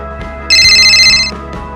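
A telephone rings as a call is placed: one loud electronic ring burst close by, set between quiet low background tones, with no talk.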